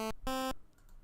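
A Magical8bitplug2 chiptune synth plays a thin, buzzy 12.5% pulse wave: a very short blip and then a longer sustained note, both clean, close and bright with no voice over them.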